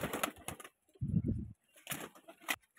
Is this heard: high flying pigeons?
yes